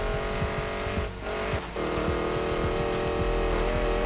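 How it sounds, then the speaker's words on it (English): A racing car engine in the video game Need for Speed Payback drones continuously at high revs, with brief dips in pitch as if shifting gears, loud and close. "Like all I hear is the engine."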